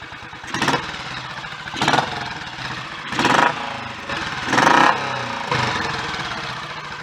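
A tuned Royal Enfield 500 single-cylinder motorcycle engine idles steadily with a deep chugging beat, rising in several short throttle blips roughly once a second, loud and close.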